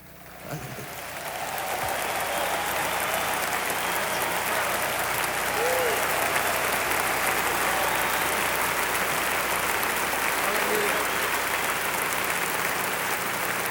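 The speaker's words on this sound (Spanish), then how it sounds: "Dele un aplauso al Señor" Sustained applause from a large congregation at a live Christian worship concert in 1995, a dense, even wash of clapping that swells in within the first second or two and holds steady at moderate level throughout.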